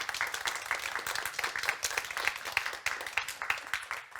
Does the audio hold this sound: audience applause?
yes